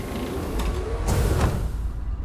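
A sliding spaceship door in Starfield opens with a loud mechanical creak and grinding whir, rising in two surges over a steady low hum with no talking.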